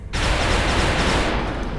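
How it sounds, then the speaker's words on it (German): A gunshot fired in the XCOM video game, one loud sustained burst of gunfire lasting nearly two seconds that starts abruptly and stays dense and broadband throughout, with no voices. "Erstmal aus der flankierten Position wegbewegen und dann den Schuss abfeuern."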